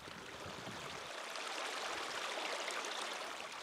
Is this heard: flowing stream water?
yes